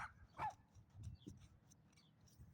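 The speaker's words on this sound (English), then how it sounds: "what are these dogs" Several dogs bark loudly and close by in short, irregular bursts, with a few yips and whimpers between them, over a low background rumble.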